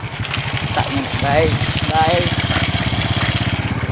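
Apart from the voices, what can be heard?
motorcycle engine running off-road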